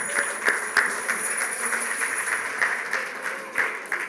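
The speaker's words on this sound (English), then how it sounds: "Okay, round of applause for doing the last exercise." An audience at a summit interactive session gives a steady round of applause, dense overlapping claps sustained throughout at moderate loudness, with no talking over it.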